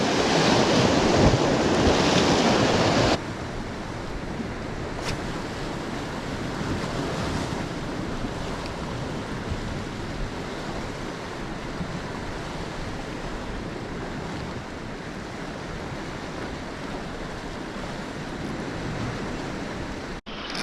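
Sea swell rolling in and breaking on a shore where bass lure fishing takes place, a steady broadband wash of surf with wind noise buffeting the microphone, louder in the first few seconds then settling into a constant roar with no speech.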